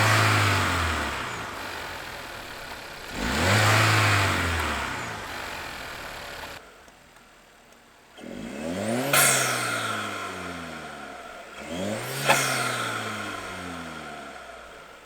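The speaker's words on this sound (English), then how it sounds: "see what this intake sounds like now" A 2018 Chevrolet Cruze fitted with an AEM cold air intake revs repeatedly, each throttle blip rising sharply and falling back toward idle in several distinct swells, the later revs ending in a whooshing release, heard alone up close.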